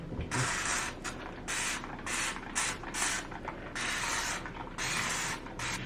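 A spray bottle of cleaner is pumped repeatedly, giving a series of short hissing bursts in an uneven rhythm, close and clear with no talking.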